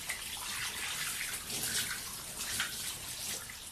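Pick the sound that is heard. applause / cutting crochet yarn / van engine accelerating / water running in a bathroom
water running in a bathroom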